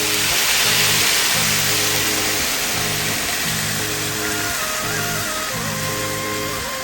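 Stock is poured into risotto in a pan while it is stirred, giving a broad, steady rushing hiss with a repeating low scraping rhythm, close and fairly loud throughout.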